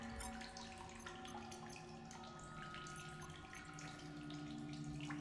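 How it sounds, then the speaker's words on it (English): Water pours steadily as a bottle is filled in The Solus Project, a continuous close gurgling and splashing stream heard alone for several seconds. "Or we can use a water from the bottle to drink. And of course we can fill it back up."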